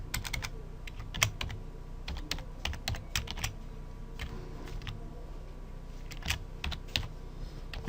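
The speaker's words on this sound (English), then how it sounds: "So I'm gonna key in some few basic HTML tags." HTML tags typed on a computer keyboard, heard as close, quick, uneven bursts of key clicks with short pauses between them, in a quiet room with no talking.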